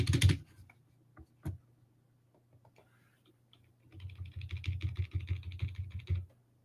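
Keys tapped on a computer keyboard: a few isolated clicks, then a quick, steady run of close typing near the end, with a low hum underneath.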